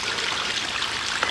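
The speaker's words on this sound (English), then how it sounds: "Now I'm going to lift it up and see if we have water dripping off all the roots." Water trickles steadily from strawberry plant roots lifted out of a Kratky hydroponic container, a soft continuous dribble heard up close with no talking.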